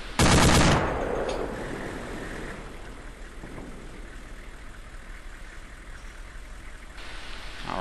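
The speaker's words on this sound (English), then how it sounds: "that's how you take care of business with a 50 cal" A .50 cal machine gun fires in the Arma video game: a loud opening burst is followed by a steady, rapid stream of shots over a low engine drone that runs almost to the end.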